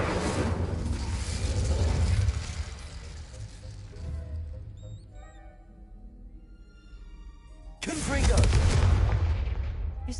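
Fiery Confringo and Incendio spell blasts from the Hogwarts Legacy video game: two loud, roaring bursts, one at the start and one near the end, with a quieter stretch of low rumble and faint tonal effects between them.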